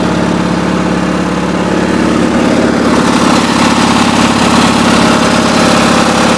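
A vehicle engine idling steadily throughout, loud and close, with a constant rumbling drone and no break.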